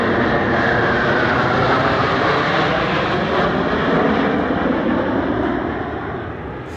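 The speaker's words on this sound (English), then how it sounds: "And now we see the international debut of their even newer Su-35S variant aircraft" A Sukhoi Su-35S fighter jet flies at the LIMA Langkawi 2023 airshow, its loud, continuous engine roar filling the air with a sweeping tone before easing slightly at the end.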